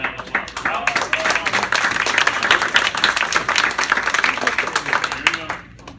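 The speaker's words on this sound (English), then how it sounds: "A wonderful round of applause." An audience at a magic show claps steadily for the magician, a dense, lively round of applause that stays full for several seconds before thinning out, with a voice talking over it.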